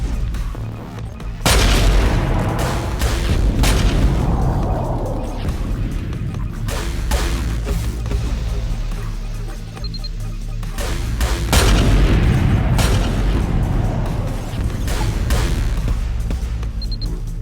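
Rocket explosions in the space game Trigon: A Space Story, heavy booming blasts and rumbling bursts that arrive in waves, two main volleys swelling and decaying with whooshes between, and little talk.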